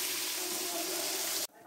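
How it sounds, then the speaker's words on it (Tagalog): Water is added to a pan of fried chicken and tofu, producing a loud, steady hissing rush of liquid hitting hot oil that cuts off abruptly near the end, close by and with no talking. "Lagyan tayo tubig, pampalambot."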